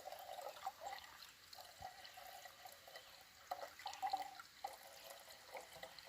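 Water trickles out of a water bottle in a faint, uneven run of small drips and splashes, quiet and close, with no voices.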